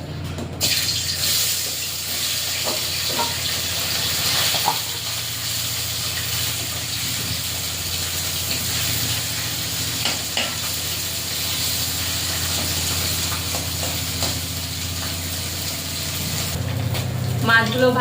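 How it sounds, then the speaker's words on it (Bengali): Small fish fry in hot oil in a wok, giving a loud, steady, broad sizzling hiss that continues throughout with slight surges. "কড়াইতে তেল দিয়ে দিচ্ছি। এবারে মাছগুলো ভেজে নেব।"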